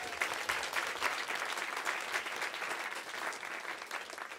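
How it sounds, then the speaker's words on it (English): Audience applause at a polio eradication event, a steady wash of clapping from a crowd lasting several seconds, moderately distant and fairly quiet, with no speech over it. "round of applause."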